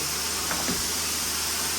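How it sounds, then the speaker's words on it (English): A carpet steam cleaner working a carpet, its steady loud broadband hiss and motor roar filling the whole stretch with no breaks and no voices. "Steaming it out."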